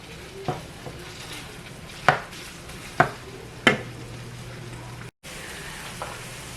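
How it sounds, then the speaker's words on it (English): Ground beef and onions cooking in a pan, with a steady low sizzle and a few sharp utensil scrapes and taps against the pan at intervals, close and moderately loud with no talking. "I'm just going to continue to let this ground beef go ahead and cook"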